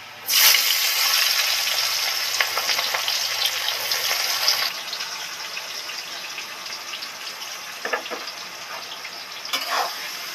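Chopped onion hitting hot oil already holding a dried red chilli and bay leaves, giving a loud, close hissing sizzle that gradually fades to a softer frying crackle with a couple of brief stirring scrapes.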